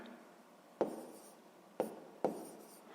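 A pen on paper writing out a math problem: three short, distinct scratchy strokes spaced about a second apart, quiet and close in an otherwise hushed room.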